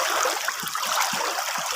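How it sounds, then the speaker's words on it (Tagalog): A strong river current rushes steadily past rocks in a continuous, close, broadband wash, with soft low gurgles pulsing underneath. "Oh, ang lakas ng agos."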